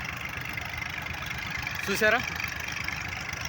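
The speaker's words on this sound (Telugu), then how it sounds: "ఇదే డబుల్ ఇంజిన్" A twin-engine dewatering pump runs at a flooded construction excavation for the Amaravati capital HOD towers, pumping water out. Its engine gives a steady, continuous drone, and a voice briefly speaks over it near the middle.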